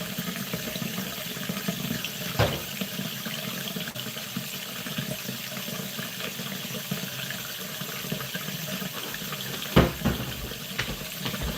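A bathroom tap runs steadily into a sink during a face-washing routine, a continuous close hiss of water with a couple of faint knocks and no talking.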